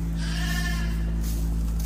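Sheep bleat on a farm at the end of lambing season, several voices calling repeatedly in overlapping, wavering cries over a steady low hum of barn machinery.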